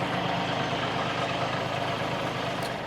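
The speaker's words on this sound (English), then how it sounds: "you want to idle the machine down, slowly release your auxiliary hydraulics" A Bobcat mini skid steer fitted with a brush cutter mower idles with a steady, unbroken engine drone, close and even throughout.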